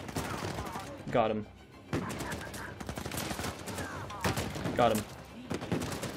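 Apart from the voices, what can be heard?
gunfire in the video game Uncharted 4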